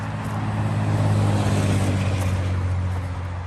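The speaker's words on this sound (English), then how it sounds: "a few loud cars might ruin the tranquility of it" A loud car engine drones steadily nearby on a road beside the Red Banks Alvar trail, its low hum swelling slightly and then easing off, with a wash of broadband noise.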